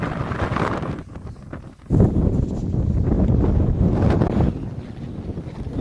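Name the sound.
strong wind on mountain summit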